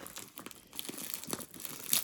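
Scissors snip and crinkle through plastic packaging in short, irregular bursts of crackling, close and fairly quiet.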